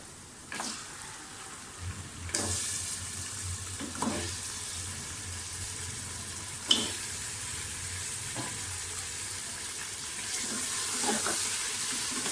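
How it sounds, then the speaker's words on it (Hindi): Mutton frying with spices in a pan, dhaba style, a steady close sizzle with occasional scraping stirs and clinks of a spoon, no talking. "अच्छी तरह से भूनें। साथ ही इसमें मटन डाल दें।"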